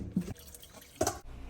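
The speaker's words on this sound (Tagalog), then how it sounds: "Hugasan nyo ng malamig na tubig." Thinly sliced banana blossom is rinsed in cold water, giving two short, soft splashes and drips at a quiet level.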